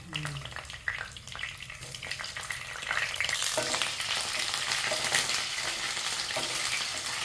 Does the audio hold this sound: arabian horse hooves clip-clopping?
no